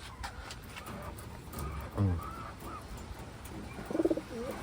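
Blue bar pigeons coo in a short burst near the start and again with a rounder, nearer coo toward the end, over a faint background hum.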